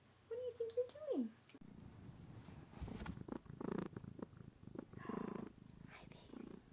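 A cat purrs in a faint, low, continuous rumble at close range, with soft talk over it.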